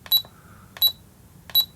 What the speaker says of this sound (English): I'm going to keep the beeping on because it's just a part of it